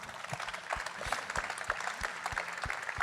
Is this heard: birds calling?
no